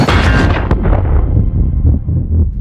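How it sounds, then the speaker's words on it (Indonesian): A huge explosion from a giant-robot battle scene in the Pacific Rim sci-fi film: a loud, booming blast that erupts at once and rolls on with dense, rumbling debris and reverberation, fading only slightly over a few seconds. "Ledakan besar bergema."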